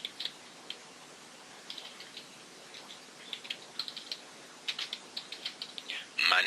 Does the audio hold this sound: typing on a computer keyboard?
yes